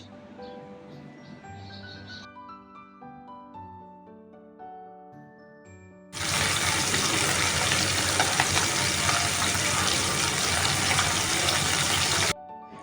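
Salt-and-turmeric-coated bata fish dropped into hot oil sets off a loud, steady sizzle that bursts in abruptly after a quieter kitchen stretch, holds for about six seconds, then cuts back down.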